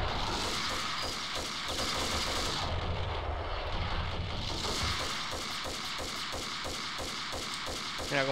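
Gunfire in the Max Payne video game: rapid, repeated gun bursts over a droning, engine-like background, fairly close and continuous, with no speech.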